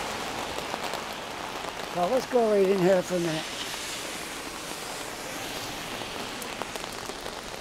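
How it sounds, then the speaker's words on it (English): Heavy rain falls steadily around a person walking through the North End on a mild, chilly day, a constant dense patter with someone briefly speaking over it. "I love the rain. I love walking around in the rain."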